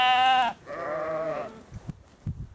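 Sheep in a flock by the Steinberger See in Bavaria bleat twice in close succession, each call loud and near, followed by soft low thumps and shuffling.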